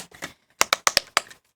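Temu fidget pop-it toy being pressed, giving a quick cluster of crisp, close clicks and pops in an irregular rhythm, fairly faint and with no talking.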